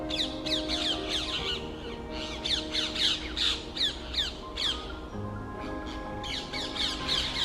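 Noisy parakeets give shrill, rasping squawks in rapid overlapping bursts close to a moored narrowboat, with brief lulls before the calls pick up again.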